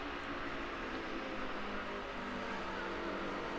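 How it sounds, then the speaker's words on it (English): A steady, distant race car engine tuned by Cosworth drones with a high whine on a racing circuit, holding an even level throughout with no voices. "Sound of that amazing engine, tuned by Cosworth."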